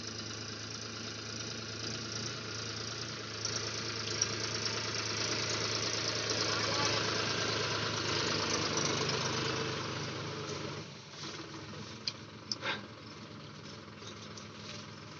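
A Massey Ferguson 1035 DI tractor pulling a loaded trolley and stuck in mud idles with a steady, moderately loud engine rumble and knock, then dips briefly near the end before a few sharp clanks.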